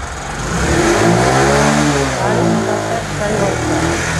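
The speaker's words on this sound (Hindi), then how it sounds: "ये गाड़ी हमारा स्टार्ट हो चुका है" A TVS XL 100 iTouch BS6 moped engine running after a self-start, its former misfiring fixed, a loud, close, steady hum that swells as it revs, with someone talking over it.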